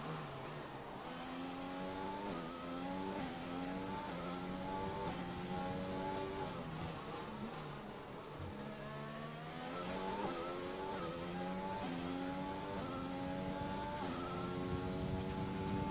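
Race cars roar continuously through a racing video game, engines revving with steady rising and falling pitch as the cars drive smoothly around the track, loud and close with no speech.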